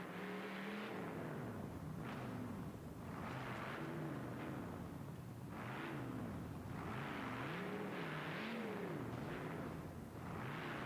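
A truck engine on a Tuff Trax run over cars, roaring continuously with rising and falling revs and surging bursts of throttle, loud and steady for about eleven seconds.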